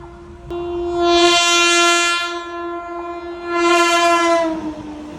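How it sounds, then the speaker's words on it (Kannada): A train sounds two long, loud horn blasts as it nears a railway level crossing with a gateman on duty and people waiting on both sides. The pitch holds steady, with a short gap between the blasts and no talking. "ಈ ಕಡೆಯಿಂದ ಟ್ರೈನ್ ಬರುವಿಕೆಯ ನಿರೀಕ್ಷೆಯಲ್ಲಿ"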